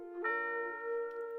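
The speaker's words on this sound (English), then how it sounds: "who would think to put a tube bell" A tubular bell struck once in a music production, a clear metallic tone with bright harmonics that rings on and sustains quietly to the end.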